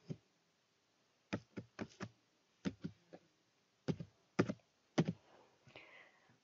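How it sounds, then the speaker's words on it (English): A verification code being typed on a computer keyboard: about a dozen sharp, separate key clicks in small irregular clusters, close and clear, with near silence between them. "I'm gonna type in my code."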